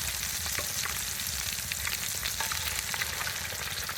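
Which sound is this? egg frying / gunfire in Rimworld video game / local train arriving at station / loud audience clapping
egg frying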